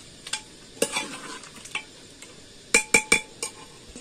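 A spoon stirs chicken curry with added garam masala in a pan, giving scattered scraping strokes and several sharp metallic clinks against the pan over a faint sizzle, with no talking.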